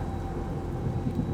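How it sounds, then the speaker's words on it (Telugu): A deep, continuous rumble of thunder rolls on steadily with a rain-like wash over it, fairly loud and with no voices. "ఒకరోజు ఉదయం మేఘాలు గర్జించే శబ్దం విని అడవిలో ఉన్న వాళ్ళకి జంతువులకి మెలకువ వచ్చింది"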